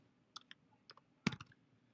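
Several quick keystrokes on a computer keyboard entering a web address, scattered single taps followed by a denser burst of clicks, fairly close and quiet with no talk.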